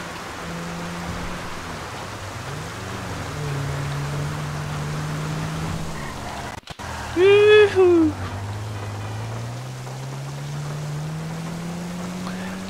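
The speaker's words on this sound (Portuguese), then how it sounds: "Pô, cara, essa chuva, hein," Rain in GTA V Online falls as a steady hiss through the whole stretch, with a low in-game car engine droning underneath, a brief cutout midway, and someone talking over it.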